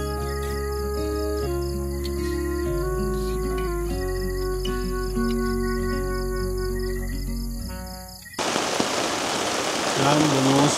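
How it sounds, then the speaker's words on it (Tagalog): Heavy rain pours down on a family farm campsite, a dense steady roar that bursts in loudly after a stretch of music and keeps hissing close by, with faint insect or bird calls over the downpour. "Lakas ng ulan."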